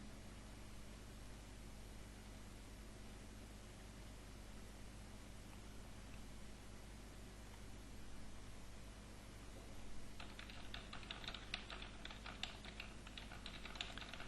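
Typing on a computer keyboard, faint and distant, a quick patter of key clicks that starts partway through over a steady background hiss.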